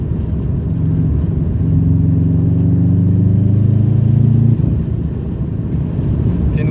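A Subaru Impreza WRX engine revs and accelerates up close, its deep rumble rising into a sustained, strong drone for several seconds before easing off; no voices.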